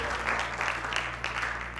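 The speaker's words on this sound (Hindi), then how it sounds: "एक बार जोरदार तालियां फिर से हो जाए हमारी मयूरी के लिए।" Applause for Mayuri from the crowd at a college commerce festival, continuous clapping heard fairly faintly and at a distance over a steady low hum.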